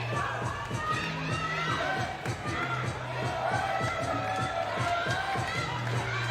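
Mongolian fans packed into a 3x3 women's basketball game cheering and shouting loudly, a dense continuous crowd roar with rhythmic chanting pulses and a commentator talking over it.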